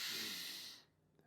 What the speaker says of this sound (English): Let's do one more deep inhale and exhale just like that.